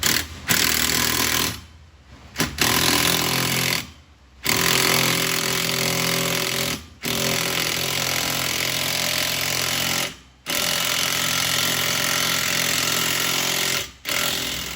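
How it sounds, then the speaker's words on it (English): Impact wrench or power ratchet with an 11mm deep socket tightening a V-band exhaust clamp on a Fiat 124 Spider Abarth, a loud, continuous rattling whir running in long bursts separated by five short pauses. "once you got the V-band clamp on, take an 11mm deep socket to tighten it down"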